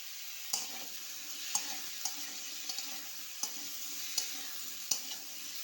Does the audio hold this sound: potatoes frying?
yes